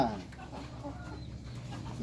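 Chickens eating corn bran at a rural homestead beside rice fields, giving soft scattered clucks and low murmurs up close, fairly quiet, with faint background noise.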